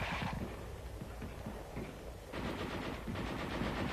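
A heavy machine gun in a 1944 wartime setting fires in rapid rattling bursts, dense and somewhat distant on an old, noisy recording with no talk.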